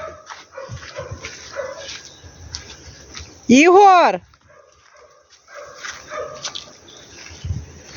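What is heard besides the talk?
dog barking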